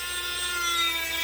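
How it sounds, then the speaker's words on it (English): A Dremel rotary tool cuts into a wooden dowel being rolled against the bit, giving a close, continuous high whine with a steady grinding edge for about a second. "And I'm not moving the Dremel a whole lot. I'm basically rolling"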